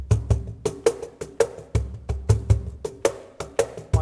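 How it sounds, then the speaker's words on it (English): A cajon plays a basic Caribbean groove, deep bass thumps alternating with crisp slaps in a steady, quick, repeating pattern, close and clear with no voices. "So the basic rhythm on the cajon, that's the name of this instrument, sounds like this."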